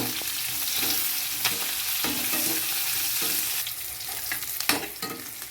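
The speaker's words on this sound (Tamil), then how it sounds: "பெரிய வெங்காயம் அரிஞ்சு வச்சுருக்கிறது அதை எடுத்து போட்டு நல்லா பொன்னிறமாக வதக்கணும்" Chopped big onions sauté in a pan toward golden brown, a steady sizzle of frying with the scrape of a spoon stirring through it, continuous and close, with a few sharper clinks near the end.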